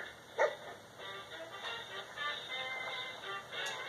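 A dog in the video game Fallout 4 gives one sharp bark early on, then faint yips and whimpers follow over a quiet, steady game soundscape.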